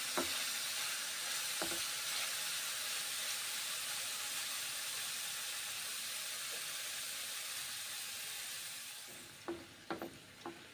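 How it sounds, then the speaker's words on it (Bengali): Mung dal lentils frying in a pan give a steady, fairly quiet sizzle that holds throughout, with a few sharper stirring clicks near the end. "তারপরে মুগের ডালগুলোও ভেজে নিচ্ছি"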